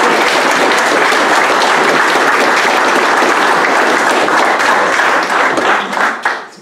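An audience applauds with sustained, close-packed clapping that holds steady, then thins out and fades away at the end.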